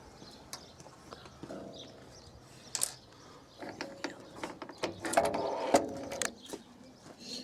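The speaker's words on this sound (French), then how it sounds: "Et là on visse la dernière." Screws being driven into a bioclimatic pergola frame, a few short mechanical whirring and ratcheting bursts of a screwdriver against a quiet background, with faint clicks between.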